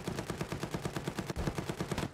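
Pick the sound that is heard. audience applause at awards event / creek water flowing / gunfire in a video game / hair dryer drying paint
gunfire in a video game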